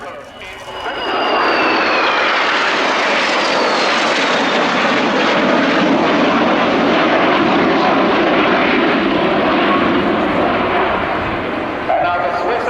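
Swiss Air Force aerobatic team jets fly in close formation over Fairford at an air show, a loud, continuous engine roar that swells in within the first second and holds steady, with a commentator speaking over it.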